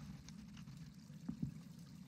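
In the horror game Visage, water gushes and trickles steadily from an object, a quiet continuous pour over a low background hum with a couple of brief splashy bumps near the end.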